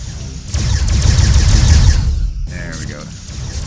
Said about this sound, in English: Fire all spatial charges.